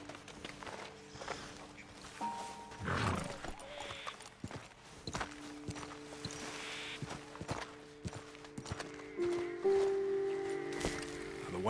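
Horses in the Red Dead Redemption 2 video game clop along at a walk, hooves sounding in steady clip-clop rhythm close by, with a brief snort or whinny mixed in over a quiet outdoor game ambience and faint tonal music.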